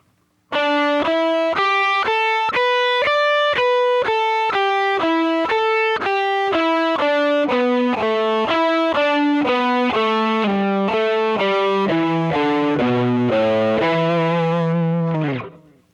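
A distorted electric guitar plays a slow, steady pentatonic run of single notes, each picked separately and sustained, finishing on a lower held note.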